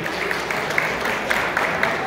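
Applause from an audience at a community dua gathering, a steady broadband patter of many hands clapping, moderately loud and continuous throughout with no voices over it.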